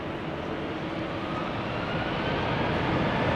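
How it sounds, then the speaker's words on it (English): Airliners take off from runway 18 Left at Amsterdam Schiphol Airport, a loud, steady jet engine roar that swells slightly as it continues, with no talking. "these are going to be the last airplanes taking off from 18 left then"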